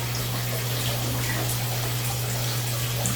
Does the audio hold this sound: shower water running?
yes